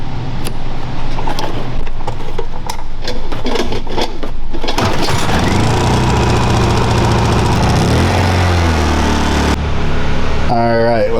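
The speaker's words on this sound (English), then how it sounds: "Matt's whole goal is to be able to run that AC unit off this small Honda quiet generator" Small Honda quiet generator running an AC unit on a Chevy Kodiak truck camper: a steady, close engine drone with a low hum that holds throughout, its pitch shifting once as the load comes on, with talking over it.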